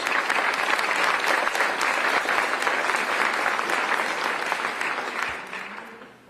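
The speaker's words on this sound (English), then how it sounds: "I want a large round of applause for the folks that I have introduced, but mostly for yourselves." An audience at a public meeting in Las Cruces, New Mexico claps steadily and fairly close for several seconds, with the applause fading out at the end.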